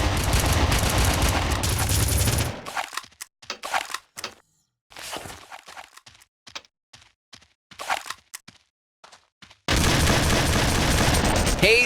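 Rapid bursts of gunfire in a Red Faction capture-the-flag match on the Warlords map: a dense fusillade opens, then scattered sharp shots and thuds, before another loud sustained volley near the end.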